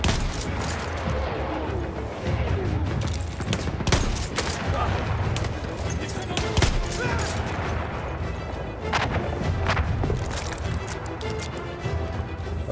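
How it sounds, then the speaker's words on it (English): Rapid gunfire from a Battlefield 1 match, mixing close shotgun blasts with surrounding weapon fire and explosions in a dense, continuous battle din, with a player's voice talking over it at times. "Slide and shotgun."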